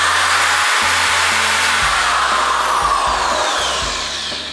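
An electric drill runs off the main outlet of an Outback500 solar generator, giving a loud, continuous motor whine close by that shifts in pitch as the speed changes.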